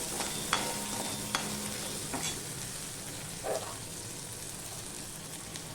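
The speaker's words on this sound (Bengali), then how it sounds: "এবার নুন হলুদ আদা দিয়ে আমি এটাকে একটুখানি নেড়ে নেবো" Taro sizzles in a pan with salt, turmeric and ginger while a spatula stirs it, giving a continuous frying hiss broken by a few sharp scrapes and clacks of the utensil against the pan.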